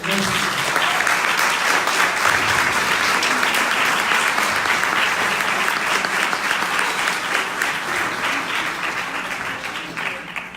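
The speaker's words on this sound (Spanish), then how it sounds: "acompáñame, un aplauso" A crowd claps steadily and loudly for several seconds, dense and sustained, easing slightly toward the end.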